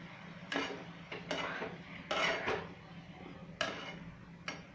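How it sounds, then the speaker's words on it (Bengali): Paneer pieces going into a pan of boiled potatoes, with a series of sharp metallic clinks and scrapes of a spoon against the pan, five or six distinct bursts at irregular intervals over a low background hum. "এবার আমি পনিরটা দিয়ে দিচ্ছি।"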